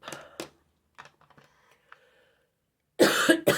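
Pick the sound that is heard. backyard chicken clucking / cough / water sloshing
cough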